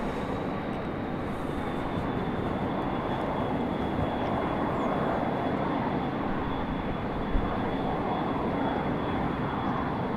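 A United airliner taxis at Raleigh-Durham airport, its steady broadband jet engine roar holding constant and fairly close throughout, with a faint high whine riding above it and no talk.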